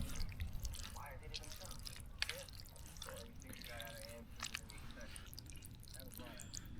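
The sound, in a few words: stirring macaroni cheese with salami in a camping pot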